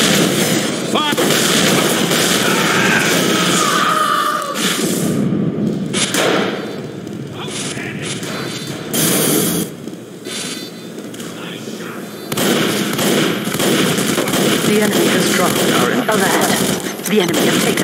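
Gunfire from a Team Fortress 2 Soldier match on the 2Fort map, with heavy booming blasts and thuds landing in quick bursts, loud and close, with in-game voice lines over the din.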